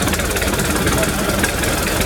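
A Twin City 25 antique tractor with a horizontal engine runs steadily at an outdoor engine and tractor show, its dense, continuous rumble loud and close throughout.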